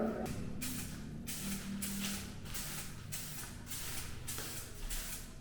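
Aerosol spray can applying clear varnish to a car wheel: steady hissing bursts in a regular rhythm, each about half a second, close by over low background noise, with no talking.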